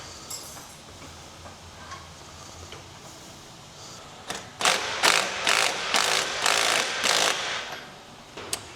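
Impact gun undoing a big strut bolt with an 18mm multi-spline socket on a 2026 BMW G87 M2, a short loud burst of rapid rattling hammering after quiet garage background.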